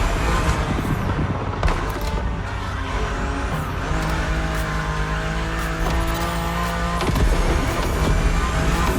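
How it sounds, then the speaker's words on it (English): A BMW Z4 E89 coupe cabriolet drives in the racing game The Crew Motorfest, its engine droning steadily with shifting tonal revs and faint tire squeal, loud and continuous throughout. "Your car is the Z4 E89, a very cool model for 2 major reasons"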